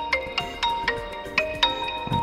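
Crystal Clear ringtone on a TECNO phone: a bright, chiming melody of clear bell-like tones struck in a steady repeating pattern, close and alone.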